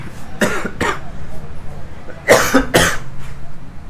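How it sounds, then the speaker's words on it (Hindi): Several sharp coughs close to the mic, an early pair and then a louder burst of two or three, with quiet gaps between. "भाई ऐसी खांसी चल रही है ना"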